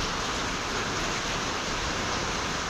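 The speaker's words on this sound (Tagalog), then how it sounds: "Kaso umuulan." Steady rain falls on a small farm with a sugarcane field, giving a dense, continuous hiss close by at an even level with no voices.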